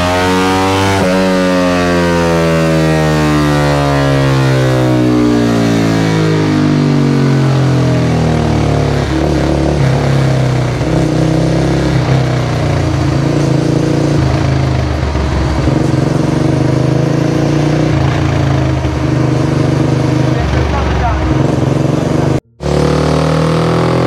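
A motorcycle fitted with a swapped ECU and aftermarket exhaust revs hard and continuously on a dyno, its loud engine note sweeping up and down in pitch for over twenty seconds before a brief cutoff.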